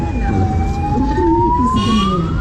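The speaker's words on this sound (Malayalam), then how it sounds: "അയ്യോ ബാക്കിൽ ആംബുലൻസ്" An ambulance siren wails steadily in a slow rising tone over loud, continuous road traffic rumble.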